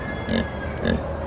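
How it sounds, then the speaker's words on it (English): A pig at an outdoor theme park gives two short nasal oinks about half a second apart over a steady background hum, moderately close. "What you doing there, piggy?"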